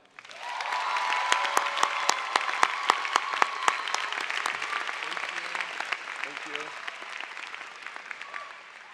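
Audience at a New School student commencement breaks into applause for the speaker, a dense, steady clapping that swells within the first second and holds for several seconds before thinning out, with a few voices mixed in.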